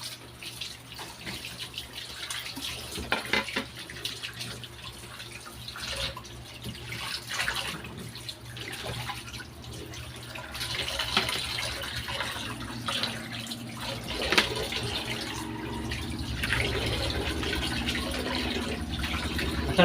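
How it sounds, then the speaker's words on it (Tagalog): Water runs steadily from a kitchen tap during home cooking, a continuous splashing flow with shifting spatter and a slight rise in force partway through, with no voices. "Masarap lang pag may tubig na ating gripo."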